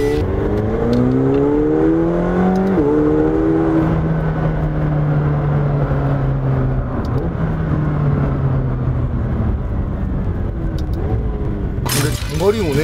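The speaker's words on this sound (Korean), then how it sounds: "근데 배기 소리가 다른 슈퍼카에 비해서 굉장히 작아요." A McLaren 720S engine drones at steady cruising speed, pitch gliding up and down with gear changes, under road noise, with a sharp clatter near the end.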